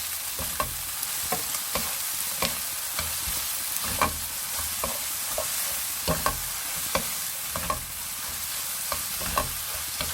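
Fish cake is stir-fried in a pan with sesame oil, sesame seeds and chopped cheongyang chili, a close, steady sizzle with regular scraping stir strokes throughout and no talking.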